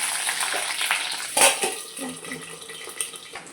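Hilsa fish roe fries in hot oil in a wok, a steady hissing and sizzling with a sharp crackle or pop partway through and no talk.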